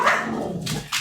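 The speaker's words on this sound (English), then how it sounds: "Dogs were starting to bark" Dogs barking indoors nearby, a quick series of short sharp barks and yips over about a second.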